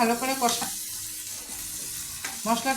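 Onion and garlic paste with spices sizzles in a pan for a fish curry, a steady fry under two bursts of someone talking at the start and end.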